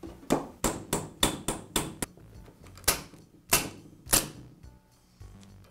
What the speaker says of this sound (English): I'll use a punch and a hammer